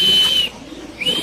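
Pigeons at a pigeon farm, including black Pluminium Potter birds, giving soft low coos under a steady high whistling tone, with a short break in the middle.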